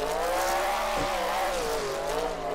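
A 2021 ESDA rep drift car, built by CDT and Nirvana and seen from the driver's seat, holds a loud, steady high-revving engine note with a brief dip in pitch midway, no talk.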